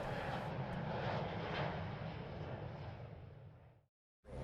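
A propeller airplane drones steadily overhead, loud and continuous, then slowly fades before cutting off abruptly.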